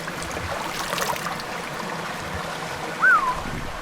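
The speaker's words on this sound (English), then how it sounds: "Yep, water definitely rips down here." A mountain stream near an abandoned ghost town rushes over packed rocks, making a steady broadband hiss and gurgle, with a brief higher tone near the end.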